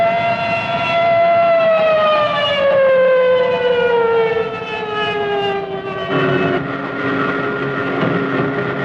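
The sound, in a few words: air raid alarm sirens wailing over German fighter airfields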